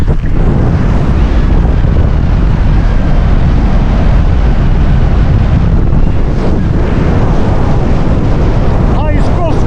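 Strong wind gusting around a wild campsite in the Lake District, gusts near 55 mph, a loud continuous roaring buffet that batters the microphone throughout with no letup.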